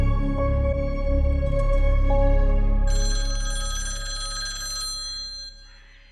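A telephone rings with a steady electronic trill, fairly loud and continuous, gradually fading toward the end with no voices.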